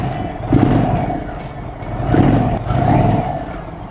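An Indian Chief motorcycle's 1890cc air-cooled engine in sport mode rumbles close by, a deep throbbing idle that swells in a few slow revs and falls back between them.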